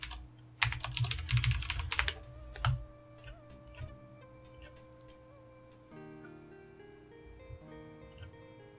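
Typing on a computer keyboard during a King's Quest VI session, a flurry of rapid close key clicks early on, then scattered single taps over sustained game music tones.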